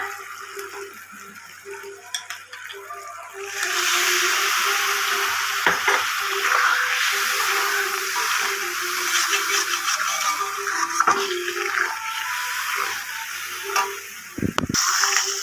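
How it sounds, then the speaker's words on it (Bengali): Water is poured into a pan of sizzling, scorching spice masala for a rice and cauliflower dish. Quiet frying with faint stirring taps gives way to a sudden loud, hissing surge that lingers as a bubbling sizzle. "আমার মশলাটা পুড়ে যাচ্ছে বলে এবার আমি একটুখানি বাটিগুলো ধুয়ে আমি জল দিয়ে দিচ্ছি"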